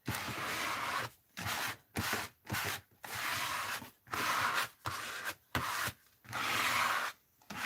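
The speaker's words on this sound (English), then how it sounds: "So I'm scraping paint because that's what Rosemary did." Paint is scraped across an art journal page in repeated rasping strokes, about a dozen close, dry scrapes of roughly half a second each, separated by short pauses.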